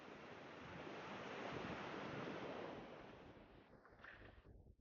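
Ocean surf at a cold water beach: a dense, loud rushing wash of breaking waves that swells and slowly recedes, with rough wind buffeting on the microphone and no speech.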